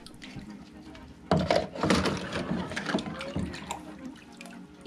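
Kids play outdoors with a garden sprinkler, and water sprays and splashes in a short, irregular burst of wet hissing after a quiet start.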